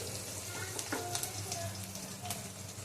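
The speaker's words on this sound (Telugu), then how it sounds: "సో ఇలా కొంచెం బ్రౌన్ కలర్ వచ్చే వరకు మీరు బాగా కలుపుకోండి." Ridge gourd curry fries in a pan with a constant close sizzle, while a spoon stirring it makes occasional scraping clinks.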